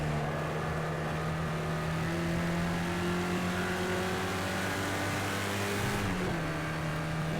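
An 1980s GT race car at Daytona in Project CARS 2 shifts up through the gears, its engine rising in pitch in a sustained drone, with a steady loud roar and a brief change near the end.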